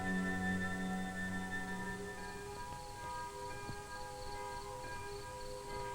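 A curfew bell tolls at nightfall over hills near a 1959 leprosy hospital in Burma, ringing with sustained resonant tones at moderate volume, its hum fading and lingering as the strikes decay, with no voices present.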